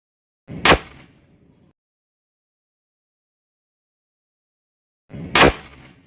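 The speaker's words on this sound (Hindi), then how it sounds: "जैसे ही हम फेंकेंगे ये जो बम है ये फट जाएगा आसानी से।" Two sharp, loud bangs of a homemade matchstick lollipop firecracker bomb a few seconds apart, each followed by a brief rumbling tail, with silence between.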